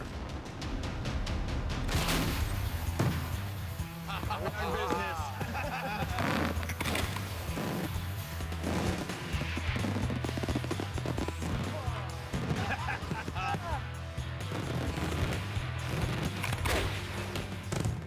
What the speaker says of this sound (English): Daytime fireworks are not made for colors. It's a sound experience.